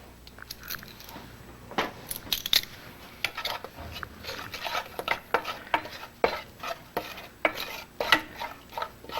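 A spoon stirs mustard and powdered milk into a mixture in a bowl, with repeated light scraping and clinking strokes at a steady, uneven rhythm, close by and without talk.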